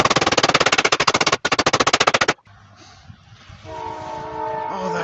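A train passes close by with a rapid, loud clatter of wheels over rail joints that stops abruptly and gives way to a lower rumble with sustained horn-like tones.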